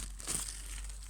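Paper crinkles and tears close by in a short, quiet burst that peaks briefly and then fades into a soft rustle.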